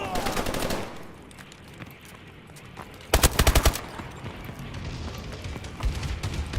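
Rapid bursts of automatic gunfire from an aerial bombing run in the video game Advanced Warfare, a dense rattling volley early on and a sharper, louder stretch of shots midway through.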